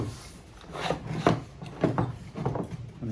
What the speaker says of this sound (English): Now I can even just clamp these two pieces together if I want.